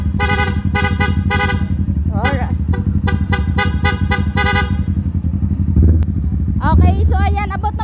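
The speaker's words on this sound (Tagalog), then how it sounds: "And then yung PIA horn niya, PIA horn with rapid horn." A PIA rapid horn on a Kawasaki Versys 650 motorcycle blares in quick repeated bursts, loud and close, with rhythmic rapid-fire honks and a brief pause, while someone speaks over it.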